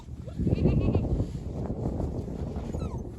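Sheep and goats bleat outdoors in an April snowstorm, with several overlapping calls close by that build early and then thin out into quieter bleats.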